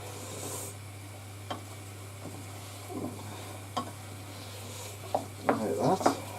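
Leeks and potatoes being stirred in a pan over a low sizzle, with soft scraping and clinks of a utensil against the pan that grow busier toward the end, under a steady electrical hum.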